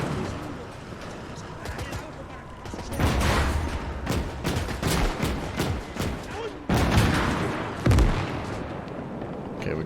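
Anti-tank gun fire in the WW2 game Call to Arms, with loud sharp shots and booming reports going off in irregular bursts over a busy battlefield din, some of them close and heavy.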